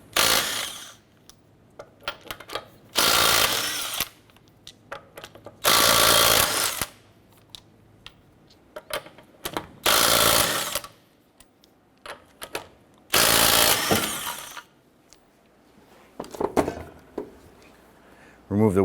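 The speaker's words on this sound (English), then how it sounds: "Using a 19mm socket, let's go ahead and remove our lug nuts." Lug nuts come off a 2008-2012 Honda Accord wheel with a 19mm socket on an impact wrench: several loud, sustained rattling hammering bursts, each a couple of seconds long, separated by quieter pauses with clicks and handling noises.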